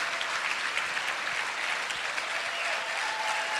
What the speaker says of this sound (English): Let's give him a tremendous round of applause, if you please.